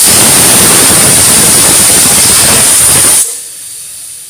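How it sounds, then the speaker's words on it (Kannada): A pressure cooker of chickpeas for chana masala lets out a loud, continuous hiss of escaping steam that cuts off abruptly after about three seconds, leaving a faint low hum. "ಇದನ್ನು 1 ವಿಷಲ್ ನಾವು ಕೂಗಿಸ್ಕೋಬೇಕಾಗತ್ತೆ. ತುಂಬ ಗಟ್ಟಿ ಇದ್ದರೆ 2 ವಿಷಲ್ ಕೂಗಿಸ್ಬೇಕು"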